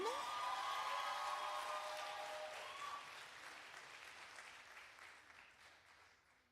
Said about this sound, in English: And keep clapping as Rubix comes back to the stage.